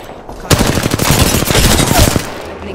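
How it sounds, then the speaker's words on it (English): Automatic gunfire in the video game Apex Legends, a loud sustained burst of rapid shots after a brief quiet start, close and dominant. "Opening fire."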